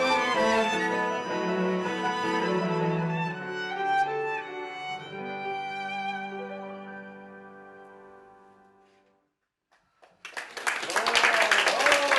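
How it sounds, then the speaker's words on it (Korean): Elderly villagers at a small village concert break into applause: after a sustained musical tone fades to silence, a burst of loud, dense clapping swells from the audience and keeps going. "어르신들도 힘껏 박수를 보낸다"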